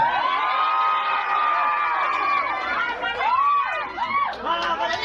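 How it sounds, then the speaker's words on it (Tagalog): A crowd at a rally for fire victims shrieks and cheers together in a continuous high-pitched roar, loud and sustained, with excited whoops rising near the end. "Kanina pa kayo tili ng tili. Magtilian uli kayo."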